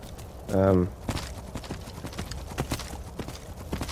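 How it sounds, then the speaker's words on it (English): A short horse-like snort or whinny, then irregular clopping hoofbeats scraping and stepping up as a horse climbs in the video game Skyrim, fairly close and moderately loud. "If you do it right, Arvak, not just Arvak, any horse can climb 90 degrees."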